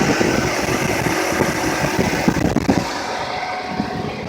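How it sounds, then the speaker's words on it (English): Volkswagen Passat 1.8 turbocharged engine running in a garage setting, a moderate, uneven mechanical rumble with scattered ticks and pops, fairly close, with no speech over it. "Make sure the engine's running."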